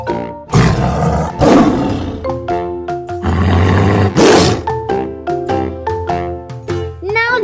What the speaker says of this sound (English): How does the lion make sound?